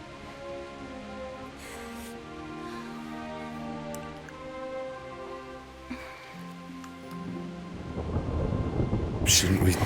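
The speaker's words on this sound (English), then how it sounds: "Not afraid of thunderstorms, are you?" Thunderstorm with rain in the video game Kingdom Come: Deliverance, a soft wash of rain beneath sustained musical tones, with a deep rumble of thunder swelling louder toward the end.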